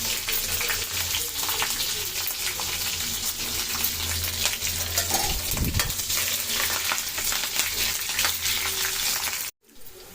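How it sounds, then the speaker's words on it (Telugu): Green chillies and curry leaves fry in hot oil in a kadai with a loud, continuous sizzle and crackle. Occasional stirring clinks come through before the sound cuts off abruptly near the end. "కరివేపాకు వేగాక పచ్చిమిర్చి వేసుకోండి."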